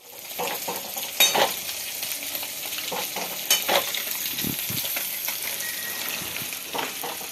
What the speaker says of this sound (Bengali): এখন আমি মাছ ভাজছি